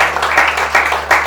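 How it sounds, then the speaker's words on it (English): An audience at a business conference gives the team a short round of applause, a brief burst of steady crowd clapping that swells and dips in a few quick waves. "Can you a round of applause for the team itself?"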